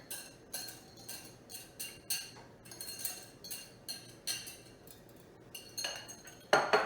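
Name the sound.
stirring bread dough ingredients in a bowl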